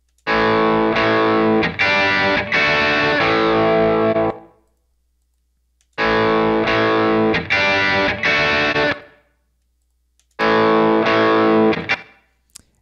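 Loud distorted electric guitar chords ring out through a single amp cabinet in three separate bursts, each strummed and left to sustain before cutting to silence.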